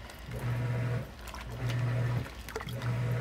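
A Giantex portable washing machine churns its wash, water sloshing in steady surges with a low motor hum that cycles on and off, close and continuous.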